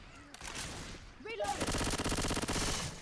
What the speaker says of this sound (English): Can we stop shooting each other?